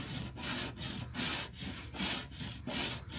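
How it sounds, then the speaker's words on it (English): A hand scraping tool shaves down high points in the paint of a Lexus LC500, giving steady rhythmic rasping strokes, about eight back-and-forth passes close up with no talking. "take this across it, and it's going to scrape the high points"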